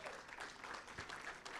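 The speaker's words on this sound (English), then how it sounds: "Let's give them a round of applause." Brief, fairly quiet applause from an audience at a university assessment summit, a dense patter of clapping lasting under two seconds.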